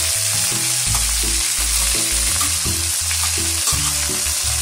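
Curry leaves, coriander and mint sauté in a hot pan with a steady sizzle and stirring, heard under prominent background music.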